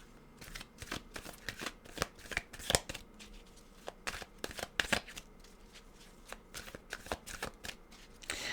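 A deck of tarot cards is shuffled repeatedly by hand, with quick riffling bursts and soft slaps that run steadily and close up, and no speech over them.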